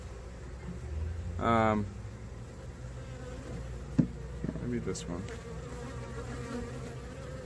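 Faint honey bee buzzing at a hive during an inspection, with a louder close pass of a bee, a sharp click, and a person speaking briefly nearby.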